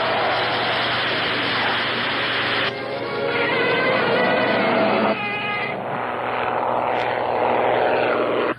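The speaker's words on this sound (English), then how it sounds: "Here comes the plane." A propeller airplane approaches in a Gamera monster film, its droning engine filling the soundtrack loudly and continuously, with the tone shifting slightly as it nears.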